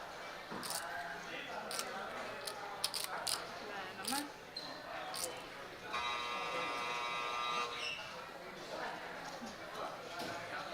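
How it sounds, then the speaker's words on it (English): A loud electronic buzzer at a poker final table during a card club tournament, a sustained harsh tone of about two seconds rising over the room's chatter and chip clicks. "And that buzzer is loud, huh?"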